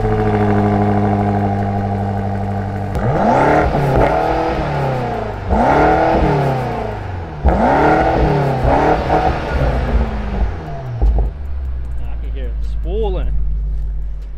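A car engine cranks and starts, then is revved in three or four strong bursts that rise and fall before settling into a steady idle, loud and close with no talk over it.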